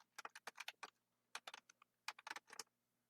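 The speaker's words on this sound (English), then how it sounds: "I can't type." Quick bursts of keystrokes clatter on a computer keyboard in three short runs separated by pauses, faint and close with no voices.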